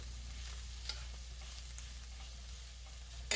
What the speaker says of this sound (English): I'm gonna stir that around a little bit.